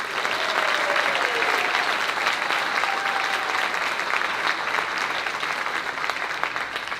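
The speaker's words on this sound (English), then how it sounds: "Everyone, please join me in congratulating all of our graduates with another round of applause." A large audience at a service dog graduation gives a loud, sustained round of applause for the graduates, a dense wash of clapping that holds steady with no break.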